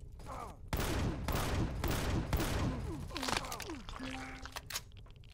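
Turret gunfire in the space survival game Empyrion Galactic Survival rattles in loud, sustained bursts inside an abandoned factory, with cracking impacts, whooshing projectile sweeps and a tonal hum near the end.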